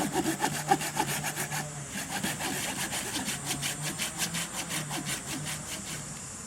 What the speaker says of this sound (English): you have to cut a notch about an inch to half an inch down, 3/4 of the way over to one side of the log